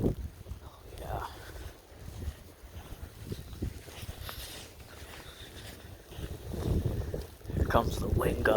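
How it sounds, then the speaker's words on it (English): Blizzard wind gusting with blowing snow and low visibility, a broad rushing roar that swells and buffets the microphone, strongest near the end, with a person talking intermittently over it. "Here comes the wind gusts."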